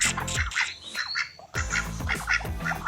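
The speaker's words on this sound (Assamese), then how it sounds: "এইকেইটা হাঁহ" Several village ducks in rural Assam give loud, harsh quacks and squawks in two bursts split by a short pause, close to the listener, with no speech.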